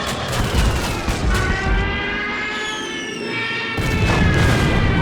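Junkers Stuka dive bomber in the Order of Battle war game, with booming explosions that fade into a falling whistle and then return as another loud blast.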